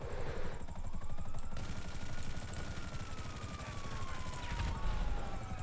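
A police siren wails in GTA Online, a faint rising-and-falling tone over a loud rhythmic chopping like a helicopter, with scattered bursts that may be gunfire.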